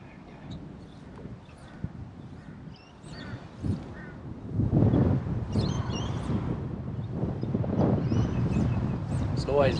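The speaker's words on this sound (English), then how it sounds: "Always very difficult when this wind's blowing hard." Hard wind gusts by the water on the Gold Coast during a lure-fishing session rumble across the microphone, strengthening midway and staying steady. A voice is heard under the gusts.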